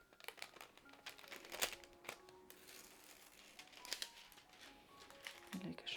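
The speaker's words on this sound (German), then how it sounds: "So, machen wir mal unsere Folie ab." Protective plastic foil is peeled and crinkled off a diamond painting canvas, giving a close run of crackling, rustling bursts with faint background sound.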